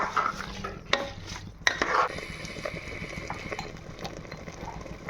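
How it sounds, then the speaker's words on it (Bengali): Washed rice poured into a pot of cooked mushrooms for mushroom biryani, giving a couple of sharp grainy rattles and clinks followed by soft shuffling and stirring scrapes close by, with no talk. "এবার এর মধ্যে চালগুলো দিয়ে দেব।"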